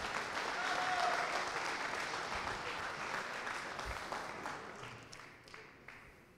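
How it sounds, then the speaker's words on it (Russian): Audience applause for fighter Alexey Oleynik, captain of the Oplot team, at an Oplot Challenge fight event: sustained clapping from a crowd, loudest early and gradually thinning out over several seconds, with no speech over it. "Ваши бурные аплодисменты."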